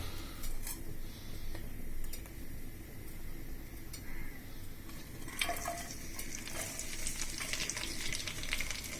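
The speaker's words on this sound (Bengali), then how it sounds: "ফ্রাই প্যানে তেল দিয়ে দিছি।" Oil heating and frying in a pan for stir-fried yard-long beans, a steady close sizzle with stirring and clinks of cutlery against the pan, growing brighter and louder in the second half.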